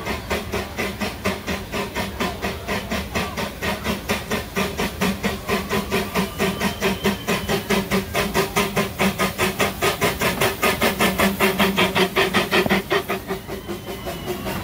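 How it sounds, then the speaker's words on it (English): A small gas-fired steam locomotive at Hersheypark chuffs in a fast, steady rhythm with a constant hiss of steam, loud and close, running without pause throughout. "steam powered. So it's a cute little engine."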